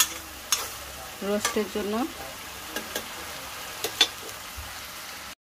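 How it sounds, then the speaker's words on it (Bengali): Onions frying in a pan for a roast gravy, a steady low sizzle punctuated by sharp spoon scrapes and clinks, with someone speaking briefly over the cooking. "পেঁয়াজটা এখন ভেজে নিচ্ছি"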